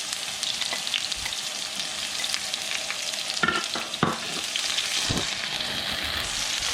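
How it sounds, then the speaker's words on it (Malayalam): Onion, garlic, ginger and green chili fry in oil with mustard seeds and are stirred, producing a constant close sizzle broken by a few louder spatula scrapes. "ഇഞ്ചിയും പച്ചമുളകും വെളുത്തുള്ളിയും നന്നായിട്ട് മൂക്കുന്ന വരെ നമുക്കൊന്ന് ഇളക്കി കൊടുക്കാം"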